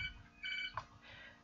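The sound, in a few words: house phone ringing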